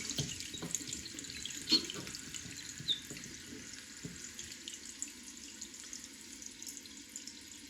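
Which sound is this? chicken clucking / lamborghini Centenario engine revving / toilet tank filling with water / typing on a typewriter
toilet tank filling with water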